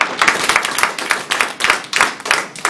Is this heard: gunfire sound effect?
no